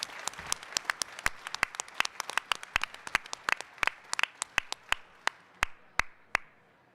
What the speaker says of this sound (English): Please join me in a round of applause to show our appreciation to our outstanding sponsors.